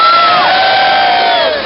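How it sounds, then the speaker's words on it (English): A crowd gathered for a Christmas lights switch-on in Trowbridge raises a loud, sustained cheer, with many voices whooping and shouting together before it slowly fades. "Come on, let's have a cheer."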